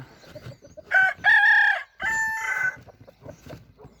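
A rooster crows loudly nearby in a small poultry run with hens, a drawn-out call in two main bursts, with soft clucking around it.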